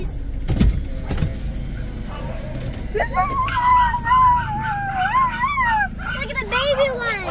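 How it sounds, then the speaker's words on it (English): Dogs, including young puppies, howl and whine in rising and falling cries over a car's steady engine hum, with people talking nearby. "There are the doggies."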